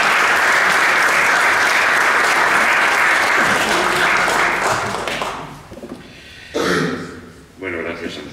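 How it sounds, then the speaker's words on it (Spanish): Warm audience applause at an ethics lecture, a dense sustained clapping that fades out after several seconds, followed by a speaker's voice in a hall. "démosle un cálido aplauso al ponente."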